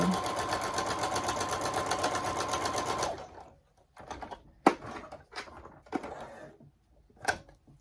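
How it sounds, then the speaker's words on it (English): A sewing machine runs steadily for about three seconds while stitching a quarter-inch quilting seam, then stops. Scattered clicks and handling knocks from the fabric and machine follow. "Take them to the machine. Sew my 1/4 inch seam down like so."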